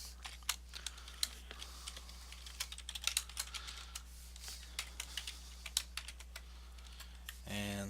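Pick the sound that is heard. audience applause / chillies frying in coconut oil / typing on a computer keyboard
typing on a computer keyboard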